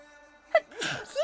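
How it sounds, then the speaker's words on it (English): One sharp, close sneeze bursts out, followed by a breathy exhale and a short voiced sound. "I'll go to sneeze."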